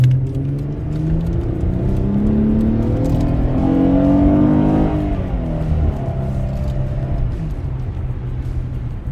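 A car fitted with a throttle controller set to normal mode accelerates, its engine rising in a loud, sustained drone that swells and then eases, heard up close without any talk.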